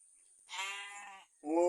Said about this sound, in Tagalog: Nandito po mga tupa natin.